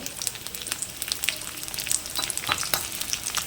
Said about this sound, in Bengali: তেল গরম হয়ে গেলেই তাতে কাঁঠালের বিচনগুলোকে আমি দিয়ে দেবো।